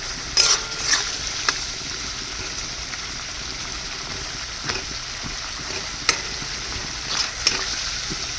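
Crab curry with tomato being stirred in a pan, the spoon scraping in a few distinct clinks and swishes over a steady low simmering hiss.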